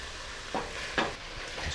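Tomatoes, mushrooms and garlic sizzling in a pan while being stirred, a steady frying hiss with a few scraping spoon strokes, close and moderately loud.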